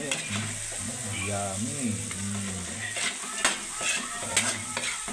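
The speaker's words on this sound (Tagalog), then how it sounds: "Haluin ang haluin hanggang sa maluto siya." Pinakbet with meat and tomato stirred in a hot pan, a steady sizzle under repeated spatula scrapes and clinks against the metal, close by, with a voice briefly speaking.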